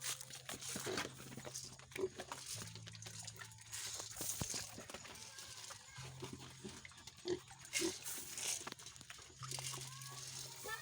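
Several pigs on a farm grunt and oink repeatedly nearby in low rumbling bursts, while people talk now and then in the background.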